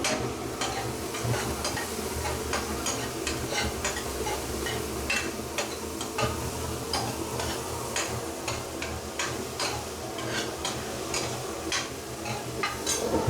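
Ingredients for a Jaffna-style mutton curry fry until golden in a pan, with a steady sizzle and frequent scraping, ticking strokes of a stirring utensil close by.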